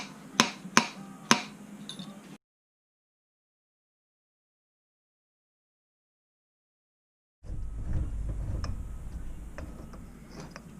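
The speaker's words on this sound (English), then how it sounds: "We get that oil seal out of there just by giving it a couple of pops." Front fork oil seal on a Honda CRF150R tapped loose, three sharp metallic knocks in quick succession close by, followed by silence and then a stretch of low rumbling workshop handling noise.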